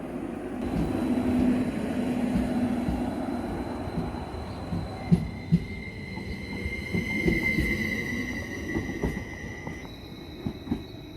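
A train rumbles and slows as it arrives at Taffs Well station, with high metallic squealing from the wheels and a few sharp clanks.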